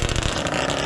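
A Yamaha Banshee ATV two-stroke engine fitted with cheap aftermarket carburetors revs loud and close in a single continuous, buzzy burst.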